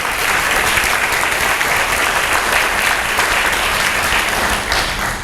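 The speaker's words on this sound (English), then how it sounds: "Give them a round of applause." A crowd applauds at a high school Hall of Fame induction ceremony, steady dense clapping that stays loud throughout and tapers slightly at the end.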